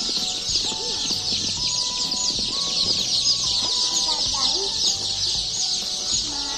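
KUB chickens clucking steadily in a coop, several birds close by with overlapping calls over a constant bright chorus of smaller chirping chicks, with no talk.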